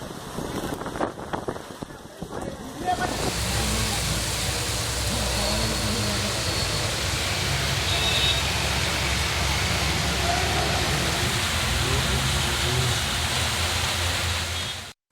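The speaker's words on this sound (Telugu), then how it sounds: "ఈదురుగాలులతో కురిసిన వర్షంతో వాతావరణం చల్లబడింది." Heavy rain driven by gusty winds during a storm in Hyderabad, a dense, steady hiss that roars up after a few seconds of softer sound and then holds loud and unbroken to the end.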